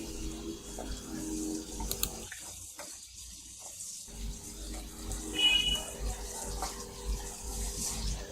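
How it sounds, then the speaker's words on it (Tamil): Tamarind solution is poured into a pot of pepper kuzhambu, making a soft, continuous liquid trickle that stops briefly partway through, then carries on quietly. "இப்போ அந்த கரைச்சி வச்சிருக்கிற புளி கரைசல் இதுல மிக்ஸ் பண்ண போறோம்."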